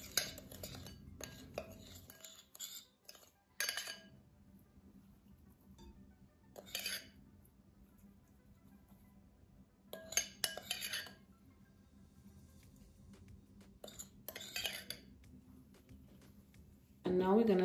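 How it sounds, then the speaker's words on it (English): Cajun seasonings being stirred together with olive oil for tilapia, giving scattered light clinks and scrapes of utensil against a dish, with quiet gaps in between. "Now I'm gonna mix these seasonings together."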